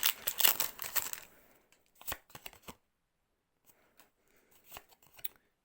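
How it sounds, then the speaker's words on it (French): Pokémon Paldean Fates booster packs are torn open, with crinkly foil rustling and card shuffling up close, a dense burst at first, then sparser crackles and snaps. "3 boosters à ouvrir dans cette ouverture"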